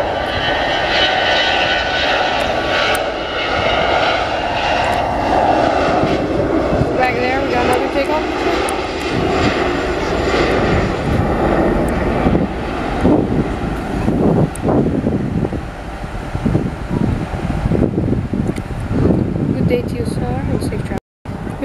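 Jet engines of a Boeing 757 airliner spooling up for a diversion takeoff at CVG, a loud sustained roar with wind buffeting the microphone, while people talk nearby throughout.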